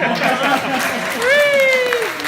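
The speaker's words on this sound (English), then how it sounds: "that deserves a round of applause" Audience applause as a round of clapping, a steady dense wash of claps heard under a voice speaking over it with a rising and falling tone.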